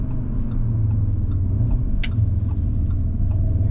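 A 2022 Audi RS3 sedan drives along a curvy road, its engine and road noise forming a loud, steady rumble from inside the cabin, with one brief sharp click partway through.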